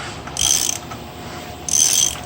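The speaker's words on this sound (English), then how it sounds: "It's not taking a lot of torque or anything to turn this motor over." A Mopar 360 short block engine turned over by hand, giving two brief mechanical ratcheting whirs with a quiet gap between them, close and with no talk.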